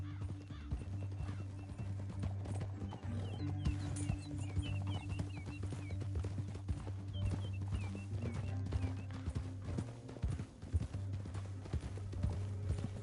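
Horse hooves clip-clop at a steady trot in the game Red Dead Redemption II, with a low droning musical backdrop and an occasional whinny.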